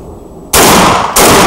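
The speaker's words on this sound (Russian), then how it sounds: "Стреляем сейчас, значит, просто последовательно заряжаем и стреляем" Two loud, close blasts from a Remington Versa Max Tactical semi-automatic shotgun, about half a second apart, each a sharp broadband crack that cuts off abruptly, after a quiet lead-in.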